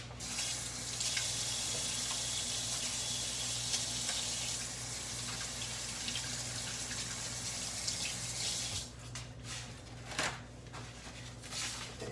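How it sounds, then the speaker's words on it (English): Tap water runs steadily into a kitchen sink as hands are washed beneath it, a continuous close hiss that breaks into splashing and shifting flow near the end. "just going to wash my hands real quick."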